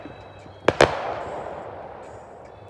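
Two sharp Fourth of July firework mortar blasts go off close together, fairly distant, each a crisp bang followed by a long fading rumble and echo.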